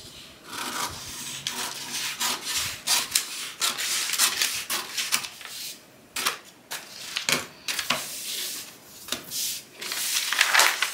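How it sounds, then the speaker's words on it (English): Scissors slice through fabric along a pant yoke line, giving repeated close crisp snips and rasping slides in an uneven rhythm, heard alone at moderate volume. "Then I'm going to cut all the way around that yoke."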